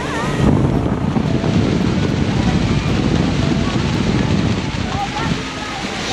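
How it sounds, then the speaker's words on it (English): Strong wind buffets the microphone at Niagara Falls on the Canadian side, a loud steady roar with the rushing falls mixed in throughout. "The amount of wind."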